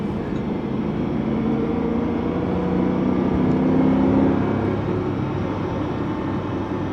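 A BMW M3 engine drones steadily and close by, its pitch climbing with a swell in loudness midway as the car drops a gear and accelerates.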